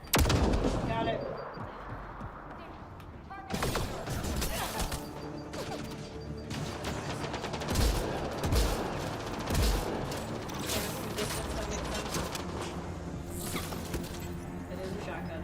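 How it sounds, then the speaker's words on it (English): Shotgun blasts and a heavy firefight fill a Mass Effect Andromeda battle, dense close impacts and bangs repeating over a steady noisy din, with voices calling out between shots. "It is a shotgun after all."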